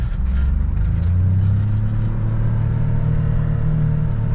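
A Gator utility vehicle on worn, smooth tires drives through snow, its engine giving a steady, loud, close low rumble that holds throughout with slight rises in revs.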